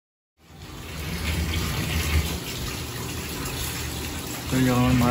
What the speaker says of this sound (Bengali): যেমন মাছ ধোয়া চলছে।